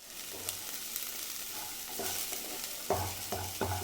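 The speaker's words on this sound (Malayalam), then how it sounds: "ഞാനിത് മുതിരയും പൻപയറും കൂടെ ഞാൻ നെയ്ക്കകത്ത് വറുത്തതാണ് അത് ഞാൻ ഇനി കോരിയെടുക്കുകയാണ്" Horse gram and beans roasted in ghee are scooped and stirred in a pan with soft scraping under a steady sizzle, and a few sharper utensil knocks come near the end.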